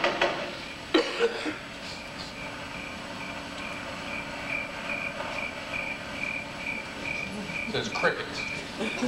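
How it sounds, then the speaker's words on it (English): Crickets chirp in a steady, evenly pulsed pattern through a faint background, with brief louder knocks or handling noises near the start and end; part of an old tape played back about a gun-crime program. "Says crickets."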